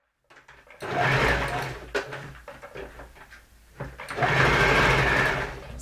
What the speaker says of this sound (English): So I'm sewing the crown